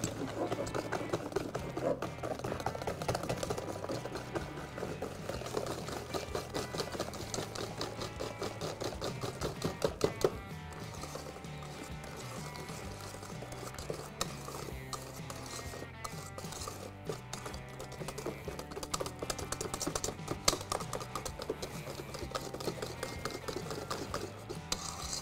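Vanilla cake batter being beaten by hand with a whisk in a bowl, giving a fast, steady clatter that runs continuously and evenly throughout.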